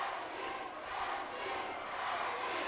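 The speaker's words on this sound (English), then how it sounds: "The crowd again showing their support for the Dream with the Dusty chants" Wrestling crowd at a TNA event chanting for Dusty Rhodes, a steady, dense roar of massed voices filling the arena throughout, with no clear individual speech.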